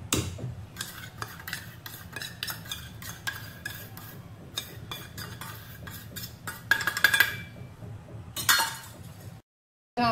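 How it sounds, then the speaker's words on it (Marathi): Ghee and sugar being beaten together for nankhatai dough, with rapid clinking and scraping of a spoon against a bowl, irregular bursts growing busier before a brief silence. "आपल्याला तूप आणखी साखर फेटून घ्यायचे, चांगली मिक्स करून घ्यायचे आपल्याला"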